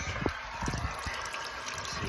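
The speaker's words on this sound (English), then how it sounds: "We are commencing tank flush." Water drains and trickles out of a 270 litre iStore heat pump tank during a flush, a steady wet rushing with a few small splashes and bumps, fairly close.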